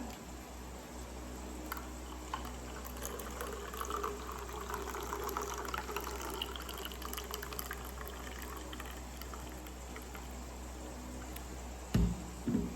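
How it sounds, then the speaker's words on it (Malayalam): Coconut milk trickles and splashes out of the spout of a Sujatha mixer grinder into a container, a steady low liquid gurgle over a faint motor hum, with a small clatter at the end. "ഈ തേങ്ങ അരച്ച് കഴിഞ്ഞാൽ പാല് കിട്ടുമല്ലോ. അപ്പോൾ പാല് പുറത്തേക്കായിട്ട് ഇങ്ങനെ വരുന്നത് ഇതുപോലെ പുറത്തേക്ക്."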